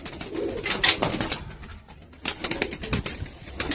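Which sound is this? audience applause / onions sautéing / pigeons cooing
pigeons cooing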